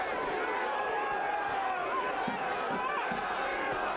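A large stadium crowd fills the air at a night soccer match, a dense and steady roar of voices with scattered shouts. It stays distant and even throughout, with no clear single speaker standing out.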